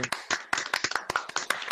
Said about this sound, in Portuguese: vou pedir uma salva de palmas aí pro um grande autor